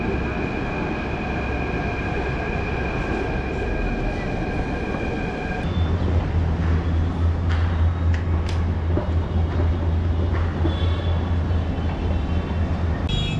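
Jaipur metro train riding toward Badi Chaupar, a steady loud interior rumble with tonal motor whine, shifting near the midpoint into a deeper, heavier roar with brief squeals and clatter, no voices.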